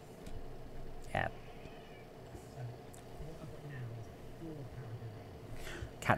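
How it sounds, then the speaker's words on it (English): A grumpy cat meows close by, a couple of short complaining meows spaced a few seconds apart over a quiet background hum, with someone talking faintly between them. "Cat's being grumpy, hinting it's time for bed."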